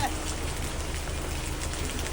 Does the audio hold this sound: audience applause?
no